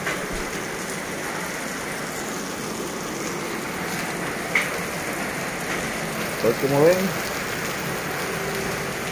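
Steady heavy rain from Hurricane Nora pours over Acapulco, a broad continuous hiss filling the scene, with someone speaking briefly near the end over the downpour.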